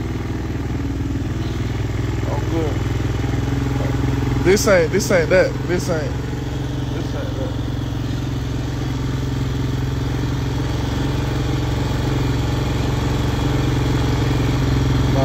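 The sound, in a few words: motorcycle engine idling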